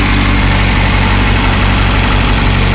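A car engine idles on its first start-up after cylinder head work, giving a loud, close, steady rumble with an even vibrating tone throughout.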